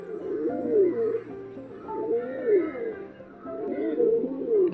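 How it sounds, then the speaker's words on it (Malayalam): A male pigeon coos close by in a repeated rolling, throaty phrase, three swelling calls spaced evenly through the stretch, with no talk over them. "ഇതൊരു മെയിൽ പ്രാവ് തന്നെയാണ് കേട്ടോ"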